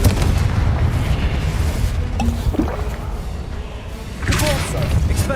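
Confringo fire-blast spells from the Hogwarts Legacy game explode in heavy, rumbling booms and crashes. The blasts are dense and continuous, with a fresh surge near the end.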